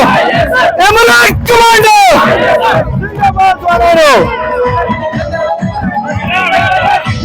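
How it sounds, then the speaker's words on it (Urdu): PTI workers chant slogans at a political rally ground in Swabi in the morning, a loud crowd of voices rising and falling in rhythmic, sung call-and-response phrases, close and energetic. "ورکر جو ہے وہ نعرے بازی کر رہے ہیں"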